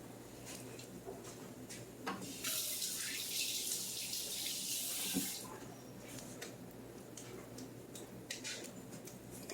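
Kitchen tap run briefly to wet hands while making potato pancakes: a soft hiss of flowing water swells for about three seconds in the middle, framed by quiet clinks and handling noises.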